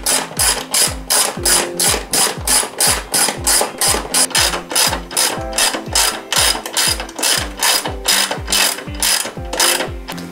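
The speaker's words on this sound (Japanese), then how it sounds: "さあ、あとはね、ボルトでね、留めていきます。" A ratchet rapidly clicking as bolts fasten the seat onto a Yamaha Serow 225 motorcycle during a restoration, loud, close, even bursts of ratcheting with no talking.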